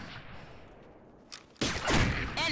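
Gunfire in a shooter game, quiet scattered rumbling at first, then a sudden loud burst of rapid shots that stays dense until the end.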